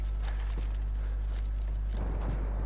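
Horse hooves clip-clopping in the Battlefield 1 video game on a Suez conquest map, with faint steady hoof beats under a constant low engine-like hum.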